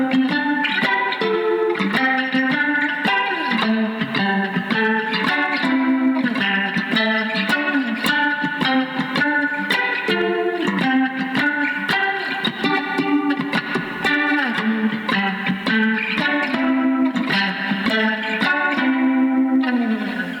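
A song played on a cigar box guitar in GDg tuning, with rhythmic chord stabs and clipped muted strums through a distorted, chorus-tinged effect, loud and continuous without talk.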